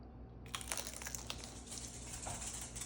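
Crisp crunching from biting into a game day snack appetizer, a series of close, sharp crackles after a brief quiet start, continuing in irregular bursts.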